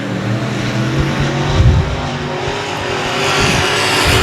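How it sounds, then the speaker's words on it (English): Race cars roar through turn 3 at a small oval speedway, a loud, continuous engine drone with tire noise as the pack runs close by, and no talking. "Once again, they're racing down into turn 3."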